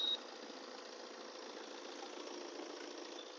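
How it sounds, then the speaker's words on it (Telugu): A Tata Safari engine idles steadily with an even, continuous mechanical hum and faint ticking, heard up close and fairly quiet with no talking. "ఇంజన్ సౌండ్ కూడా చూడండి, బాగుంది వెహికల్."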